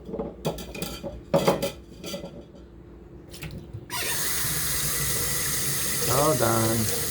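Ceramic cups and dishes clink and knock in a few sharp bursts while someone rummages for a real, non-plastic cup, then running tap water rushes steadily into a sink for the last few seconds.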